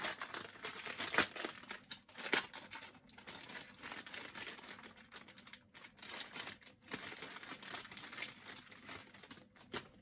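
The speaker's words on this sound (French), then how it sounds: "Je vais m'éloigner pour ouvrir le sachet." A plastic sachet from a craft box is opened and handled, giving continuous close crinkling and crackling with quick bursts of rustle throughout, and no talking.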